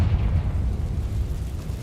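Confringo blasting spell detonating in Hogwarts Legacy, a dense low rumbling boom that holds loud and steady for about two seconds with no speech.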